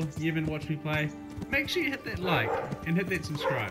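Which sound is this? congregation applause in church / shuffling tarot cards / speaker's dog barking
speaker's dog barking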